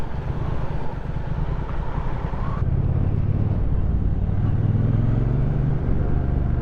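Two Triumph motorcycles, a T120 and a Speed Twin, ride along a road, their engines a steady, loud rumbling drone with wind noise and a rising engine note partway through.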